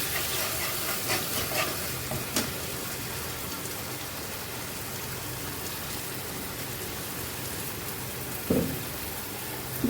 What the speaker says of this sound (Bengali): এটা আমি ভালো করে এখন একটু কষিয়ে নেব।